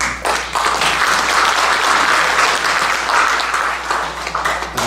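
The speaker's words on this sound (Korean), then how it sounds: "박수를." An audience at an academic conference bursts into sustained applause, dense overlapping clapping that swells quickly and holds loud for several seconds before thinning slightly.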